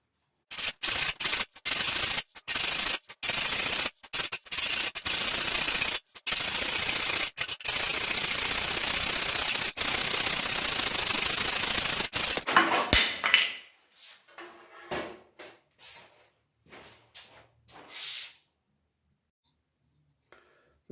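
Hand saw cutting a piece of wood held against a bench hook, fast loud rasping strokes with brief gaps between them for about thirteen seconds, then quieter scattered scrapes and taps as the cutting stops.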